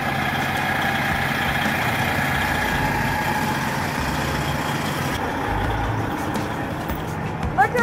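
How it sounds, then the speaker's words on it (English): A 2014 Peterbilt semi truck idles nearby with a steady low diesel rumble and a constant drone, and a brief hiss near the end. "this is Fatback truck, 2014 Peterbilt"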